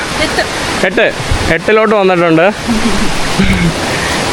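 A river spills over a small dam, giving a constant broadband roar of flowing water heard close by, with someone talking over it.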